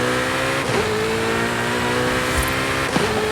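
Car engine from Forza Horizon 5 Hot Wheels, a steady sustained drone with two quick gear shifts, revving up and settling again, loud and close with no talk over it.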